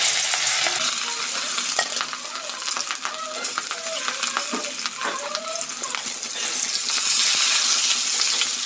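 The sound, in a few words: fish frying in hot oil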